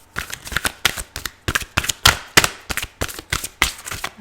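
Tarot cards are shuffled by hand in quick, crisp riffling bursts, close up and loud, with a steady rapid rhythm of slaps and flutters.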